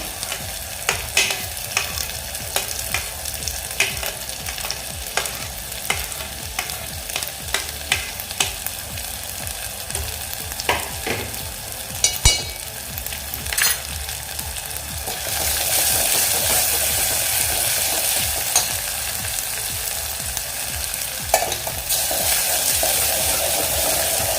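Onion and curry leaves fry in a pan for black kidney bean curry, a steady sizzle close by with repeated scrapes and clinks of a spoon stirring, the frying growing louder in the second half.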